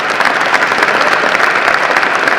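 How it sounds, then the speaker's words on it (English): Loud, close clapping from a crowd at a high school winter sports banquet, dense and continuous across the short stretch. "You can clap for that."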